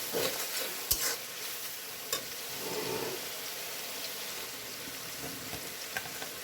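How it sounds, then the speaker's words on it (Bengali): Spices sizzle and fry in a pan for a tengra fish curry, with a steady soft crackle and occasional clinks and scrapes of stirring. "মশলাটা আমি বেশ ভালোভাবে কষিয়ে নিব।"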